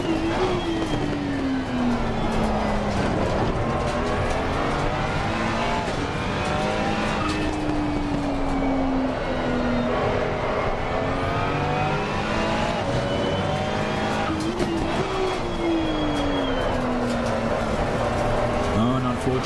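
Engine of a race car in a racing video game on the home straight, a steady loud roar that rises in pitch through the gears with brief drops at each shift, under continuous talk.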